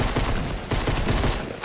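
Rapid gunfire in a video game, a loud, dense, continuous stream of close shots with a steady pulsing rhythm filling the whole moment.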